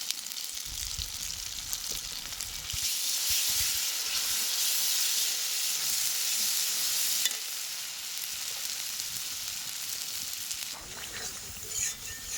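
A spice paste with turmeric powder and salt sizzles and hisses in hot oil while being stirred, a steady close frying sound that swells louder in the middle, with occasional scraping of the spoon.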